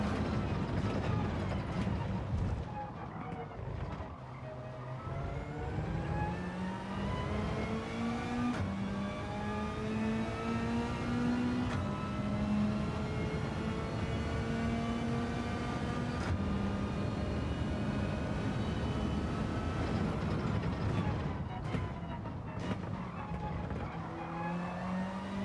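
A race car engine in the Gran Turismo 7 video game at the Red Bull Ring, droning loud and continuous as it revs up through the gears and drops with each downshift.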